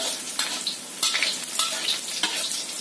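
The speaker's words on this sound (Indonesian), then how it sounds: "Kita goreng sampai matang semuanya." Shallots, garlic and chili fry in oil in a pan, a close, steady sizzle broken by the scrape and clatter of stirring every second or so.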